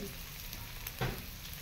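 Onions and green beans fry in leftover hilsa fish oil, giving a soft steady sizzle with one brief louder clatter, like a spatula stir, near the end.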